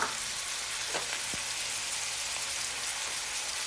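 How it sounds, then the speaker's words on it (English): Chopped onions sizzling in a stovetop pan with ground beef, a loud steady crackling hiss with a few soft clinks of stirring, no talk. "I'm going to go ahead and add my onions."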